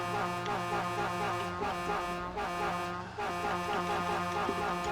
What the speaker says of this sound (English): Oh, you can knock rocks down by honking.